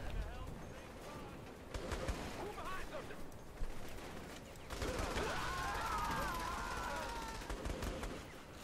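Gunfire in the video game Saints Row: The Third, repeated shots and bursts of automatic fire mixed with game noise and speech, fairly loud and ongoing throughout.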